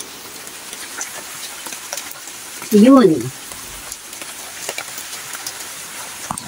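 Steady rain hisses throughout as a dense, even patter over a backyard vegetable garden during sponge gourd harvesting, with a brief voice rising over it midway.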